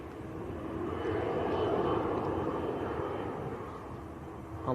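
An Etihad airliner at Manchester Airport produces a broad engine rumble that swells to a peak midway and then eases slightly, heard at a moderate distance with no talking.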